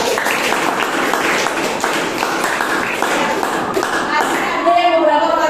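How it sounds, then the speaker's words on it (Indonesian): A group applauds after a teacher thanks the class, dense clapping running steadily throughout at moderate loudness, with a bit of voice and a brief tonal sound near the end. "Tepuk tangan dulu buat kita."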